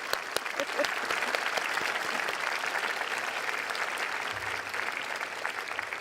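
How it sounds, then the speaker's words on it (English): A crowd at a graduate convocation applauds, a dense steady clatter of many hands clapping, even in loudness and continuing to the end. "I guess we're supposed to give applause"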